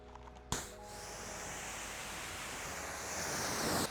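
Water from a hose or pressure washer rinses a car's hood during a pre-wash, a steady broadband spray that starts abruptly and holds loud and close for several seconds before cutting off, with no talking.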